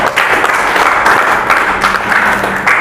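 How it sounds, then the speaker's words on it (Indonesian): Steady, dense applause from a crowd, continuous hand clapping that fills the whole moment without voices rising above it. "Tepuk tangan buat Anda semuanya."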